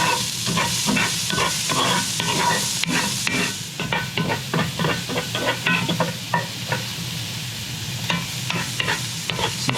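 Onions turning golden brown sizzle in a pan while a spoon stirs them, rhythmic scraping strokes repeating over a constant close frying hiss.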